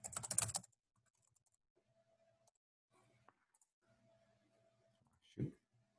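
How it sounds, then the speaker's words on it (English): Someone types Java code on a computer keyboard, with a few scattered, quiet clicks of keys and some brief louder bursts at the start and near the end. A faint hum sits underneath, and no one speaks. "I'm gonna write the code first, I'll explain."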